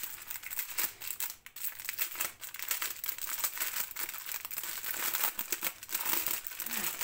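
Steady close crinkling of the plastic bag holding diamond painting drills, continuous rustle and crackle with no talking.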